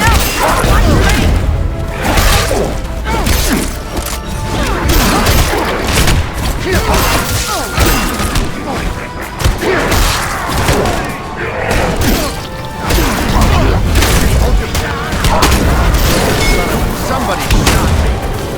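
Gunshots in Evil Dead The Game, loud booming shots and crashing impacts in a chaotic, continuous game soundscape, with a voice speaking over the action.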